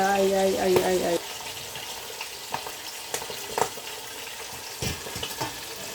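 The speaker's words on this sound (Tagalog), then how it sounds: "Yan, tatakpan ko dahil tumatalsik ka." Hot oil crackling and spattering as milkfish fries in a pan, a continuous sizzle with sharp pops, an early stretch of other kitchen noise, and a voice briefly in between.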